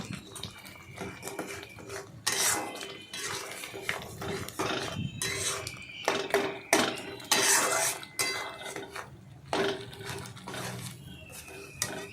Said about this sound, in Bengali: কাঁচা আম বাটাগুলো দিয়ে তারপর ভালো করে নাড়াচাড়া করলাম